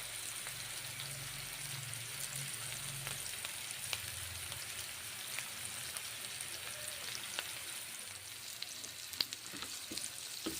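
Onion and poppy seeds frying in a pan for a potol dish, a faint, even sizzle with scattered light crackles and occasional soft stirring scrapes throughout.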